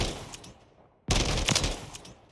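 SVA assault rifle in Modern Warfare 3 firing a rapid automatic burst on a firing range, dense loud gunfire starting abruptly after a fading earlier burst, no talk.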